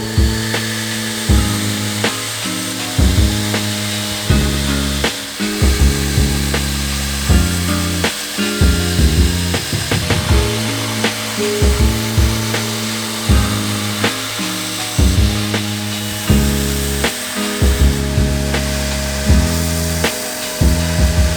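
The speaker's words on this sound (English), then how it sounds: "this is the grinding in the bevels on the belt grinder" A belt grinder grinds the bevels of a custom bushcraft knife in repeated passes, each pass a loud abrasive rasp lasting a second or two with short breaks between, continuing steadily for about twenty seconds at close range.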